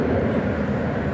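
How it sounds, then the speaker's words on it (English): Airbus A321 airliner at DFW airport, a brief steady low engine rumble, loud and continuous with no break. "it's an Airbus A321"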